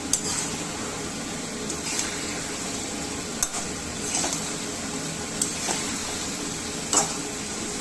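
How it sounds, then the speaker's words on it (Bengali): Taro stolons (loti) stir-fried in a pan give a steady, close sizzle, with occasional sharp clinks and scrapes of a spatula against the pan throughout. "এদিক দিয়ে আমার লতি কষানো হচ্ছে।"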